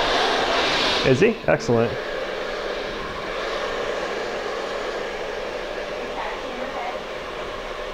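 A hair dryer blows steadily through a salon razor and asymmetrical bob haircut session, a continuous airy whoosh running the whole time, with a brief burst of speech near the start.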